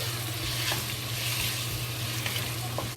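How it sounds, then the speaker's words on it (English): Pork sizzling slowly in a hot pan so its fat renders out, a steady close crackle with occasional small pops and a low hum underneath. "we fry it, slowly fry it until the fat in the pork"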